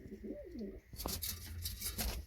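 A pigeon gives a soft, throaty coo up close, followed by a burst of rustling and fluttering noise.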